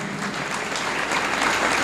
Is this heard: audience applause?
yes